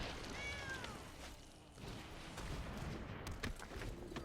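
A cat gives a short, faint meow early on, heard over quiet background noise and soft clatter.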